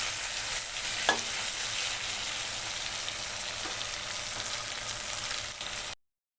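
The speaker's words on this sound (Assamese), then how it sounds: "মই এতিয়া ভাজি আছোঁ মাছ।" Fish fries in a pan with a dense, even hiss of sizzling oil that runs close and steady, with one faint clink, and then cuts off abruptly.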